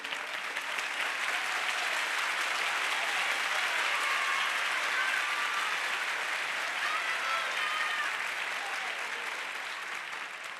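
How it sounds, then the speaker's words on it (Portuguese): A church congregation applauds a preacher, with a dense, steady roar of many hands clapping at once. It holds evenly for about ten seconds and fades slightly at the end. "Se for para mim, o aplauso tá bom"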